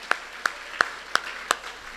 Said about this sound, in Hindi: दोनों हाथ उठाकर सारे लोग तालियां बजाएं